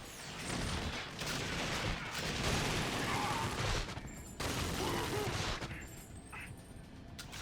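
Gunfire in the game GoldenEye: Rogue Agent: dense, continuous automatic shooting mixed with explosive bursts, loud and chaotic, broken by a couple of brief lulls.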